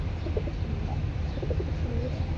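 Soft, low coos from Bagha pigeons repeat a few times at close range over a steady low hum.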